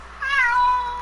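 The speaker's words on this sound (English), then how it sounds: "What are you meowing at?" A single clear, close cat meow rises and then slides downward, lasting under a second against a quiet room.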